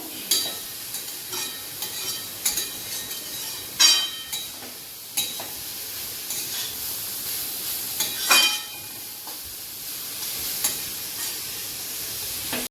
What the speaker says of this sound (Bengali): গাজরগুলাকে এবার খুব সুন্দর করে ভেজে নিতে হবে ঘিয়ের মধ্যে